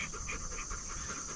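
A 9-year-old Gordon Setter pants in quick, even breaths close by, alone with no talk.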